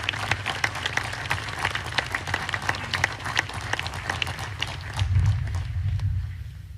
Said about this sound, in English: please join me in a round of applause for our faculty award recipients